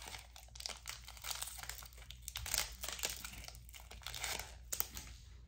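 Pokémon Brilliant Stars foil booster pack being opened, with close, quiet crinkling and tearing of the foil wrapper in irregular bursts throughout.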